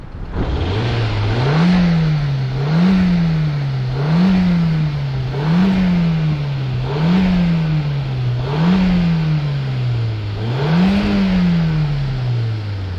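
A car engine with no coolant water in it runs loudly up close, revving up and dropping back about seven or eight times in a steady, rhythmic pattern.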